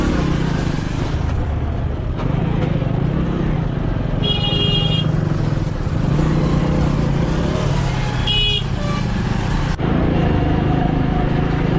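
Road traffic stuck in a jam, a dense steady rumble of idling and creeping engines, trucks and two-wheelers, with a couple of brief horn toots and faint voices under the noise.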